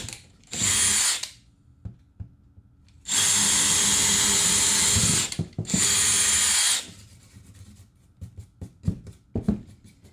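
A power drill bores into a wood panel on a workshop control-panel build, with two loud whirring bursts, a short one then a longer sustained run, followed by scattered clicks and handling knocks.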